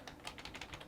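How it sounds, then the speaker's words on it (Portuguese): A computer keyboard clicks in a quick run of light keystrokes while a domain name is typed, close and fairly quiet with no voice. "vamos digitar o nosso domain"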